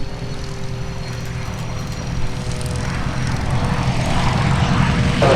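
Propeller airplane landing on runway 36 left at EAA AirVenture Oshkosh, a steady engine drone that grows gradually louder, fairly close, with no speech.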